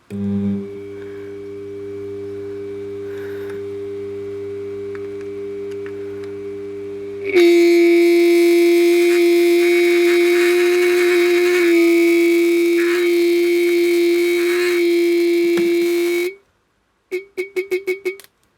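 A BSA Bantam B175 electric horn under bench test hums a steady low buzzing tone, then blares much louder and harsher for about nine seconds, cuts out, and ends with a few short stuttering bursts.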